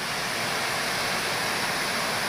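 Strong river current rushing near a hydroelectric plant in a canyon waterfall in Cebu, a dense, steady roar of water close by with no other sounds.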